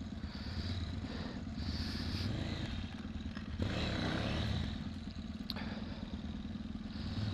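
A cold KTM off-road motorcycle engine restarts and runs at a low, uneven idle with some clatter, loud and close, rising briefly midway before settling back.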